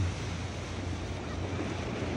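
Ocean surf washes onto the shore at a seaside beach, a steady, broad rushing hiss of waves with wind noise, constant and fairly near.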